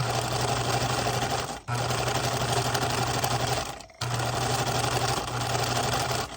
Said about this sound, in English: I'm just finishing up this edge right here. One-handed sewing.